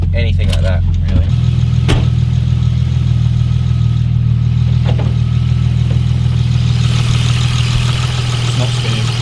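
BMW E46 street car with a newly fitted turbo, a loud steady low engine drone and a faint sustained whine while driving, with people talking over it.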